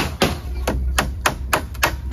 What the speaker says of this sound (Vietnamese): Ở đây thì anh Tú đóng đinh